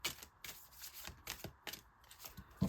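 A deck of Tarot de l'Illumination cards is shuffled by hand in quick, soft, papery riffles, repeating in a steady rhythm at close range in a quiet room.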